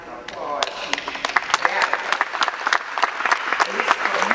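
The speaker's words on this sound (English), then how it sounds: "I think right now we need to applaud" A crowd at a Don't Shoot rally in support of Mike Brown claps steadily, with sharp individual hand claps building into loud, dense applause and voices mixed in.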